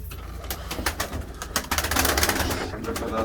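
Kayseri pigeons coo inside a coop, with several overlapping throaty calls repeating close by, plus faint rustling and wing movement.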